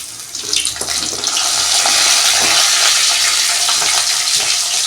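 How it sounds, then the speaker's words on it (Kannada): Frozen ready-to-fry popcorn snacks dropped into hot oil, bursting into a loud, dense, close sizzle that swells within the first second and holds steady and crackling throughout. "ಫಸ್ಟ್ ಪಾಪ್ಕಾರ್ನ್ ಫ್ರೈ ಮಾಡ್ಕೋತೀನಿ"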